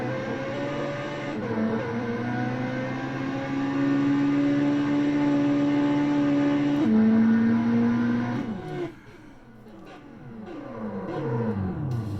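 Drag racing car engine from a Wii drag racing game, a loud steady engine drone with a whining tone that climbs and shifts pitch through gear changes, cutting out briefly near the end before revving back up, with no talking.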